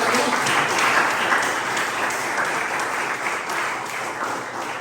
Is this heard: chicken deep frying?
no